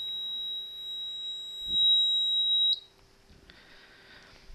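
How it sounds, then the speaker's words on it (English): An Arduino buzzer on a sonic-sensor distance circuit sounds a steady, piercing single-pitch tone for nearly three seconds, then cuts off abruptly, leaving faint room noise and handling. "And there's the buzzer."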